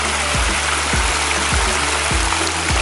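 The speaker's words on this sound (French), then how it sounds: "Une cascade," A mountain waterfall cascade in the Gorges de Saint Pierre roars as a steady, broadband rush of falling water, loud and continuous throughout, with a low rhythmic thumping recurring underneath.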